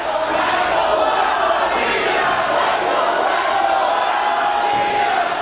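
Wrestling fans at a Reality of Wrestling versus IMPACT Wrestling show chant for the Rascals, a dense, steady crowd roar that holds at full volume throughout with no gaps.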